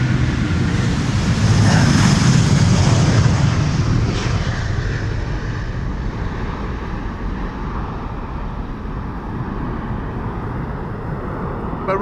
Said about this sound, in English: Over here we have Delta Airlines flight 47 to New York JFK. A330-300